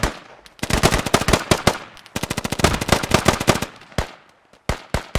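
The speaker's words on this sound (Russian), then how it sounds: "Он стреляет по мне." Bursts of machine gun fire in the military shooter game Squad, loud and close: rapid volleys of sharp cracks with short pauses between them, and no talking over the shots.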